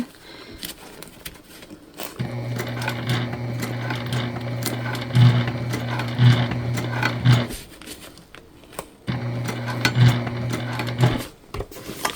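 Sewing machine top stitching a fabric shoulder bag, two long runs of steady close mechanical whirring with a brief pause between them where the stitching stops for a pivot.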